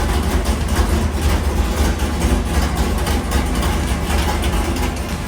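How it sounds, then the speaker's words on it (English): A 327 engine runs on a dyno with a loud, continuous, rhythmic roar that holds steady throughout, close up and with no voices. "His little 327 sounds pretty stout on the dyno, and it's definitely got good rhythm."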